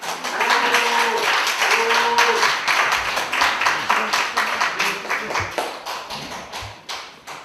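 A seminar audience marking Liberation Day breaks into applause to welcome a guest speaker, with dense, steady clapping that gradually thins into scattered individual claps before fading out.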